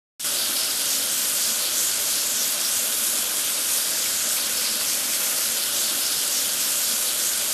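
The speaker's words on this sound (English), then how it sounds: "Run the washer over the machine to clean up the rest of the foam." A pressure washer in a farming video game sprays foam off a tractor, a loud and steady hiss that starts abruptly and runs unbroken to the end.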